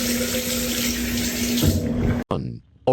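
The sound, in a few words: water running from a tap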